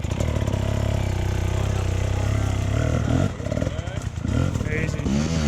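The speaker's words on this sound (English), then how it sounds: "Listen to those low revs and clutch slip." A dirt bike engine chugs at low revs with clutch slip on an enduro ride, uneven and labouring, with rough mechanical clatter and a brief dip in the revs partway through.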